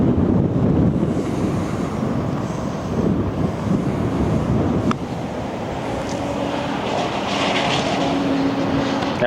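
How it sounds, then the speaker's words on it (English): Wind blows across a golf course in a continuous low roar that buffets the microphone, steady throughout with a faint higher hiss in the background. "That wind's just pushing it left."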